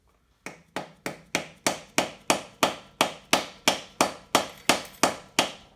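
A screwdriver taps on a 1947 GMC carburetor about eighteen times in an even, quick rhythm, each sharp metallic knock ringing briefly, close and alone.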